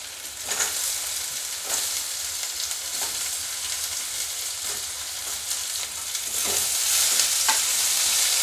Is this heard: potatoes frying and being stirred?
yes